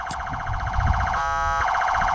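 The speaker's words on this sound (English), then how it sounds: "sitting here playing with the siren tones" A police car siren cycling through its tones, loud and close, with a rapid warbling wail that shifts into a faster yelp partway through and then returns to the earlier pattern, with no talking.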